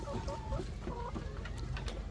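Laying hens cluck softly in a coop, several birds making short overlapping clucks and murmurs, faint and close, with no talking.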